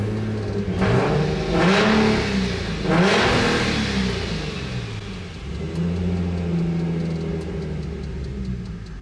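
A turbocharged car engine with a freshly sealed manifold fires up and revs several times in quick bursts, then drops into a steady, fairly loud idle.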